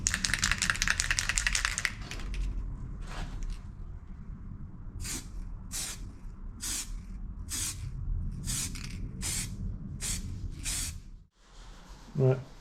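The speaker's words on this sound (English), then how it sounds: "back on now with some double acrylic high coat Vauxhall Star Silver" Double acrylic high-coat Vauxhall Star Silver paint is sprayed from a can onto a Vauxhall Omega V6 estate in a run of about eight short, hissing bursts with brief gaps between them, after a stretch of steady background noise.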